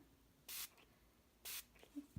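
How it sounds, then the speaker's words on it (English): A handheld spray bottle fires two short, crisp hissing bursts about a second apart, close and clear against a quiet room. "So I'm going to spray it again."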